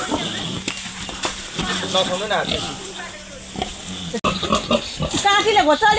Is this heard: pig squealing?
yes